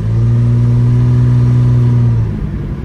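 A 1986 Ford Ranger's engine revving as it accelerates from inside the cab, a loud, steady mid-pitched drone holding for about two seconds before easing off.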